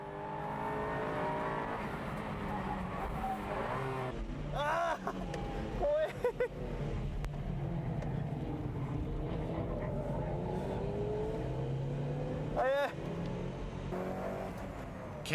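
A Puma rally car drives a race track, its engine droning and revving through gear changes with tyre noise, heard at a distance beneath commentary.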